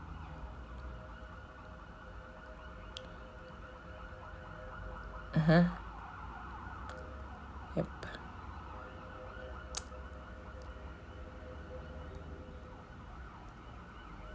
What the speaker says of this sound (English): so yeah, sorry about the sirens.